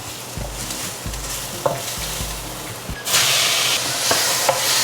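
Tomatoes going into a hot pan of browned king oyster mushrooms, with low knocking stir strokes over a soft sizzle that jumps into a loud, bright hiss as the tomatoes hit the oil.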